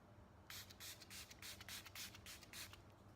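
Setting spray misted over a made-up face in a makeup routine, a run of about eight short, close, airy bursts in quick succession with no talking.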